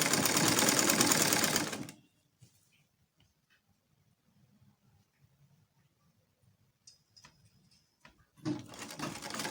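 Sewing machine stitching a basic bodice, with a loud, steady whirring run at the start that stops, then quiet handling noises, then a second loud burst of stitching near the end.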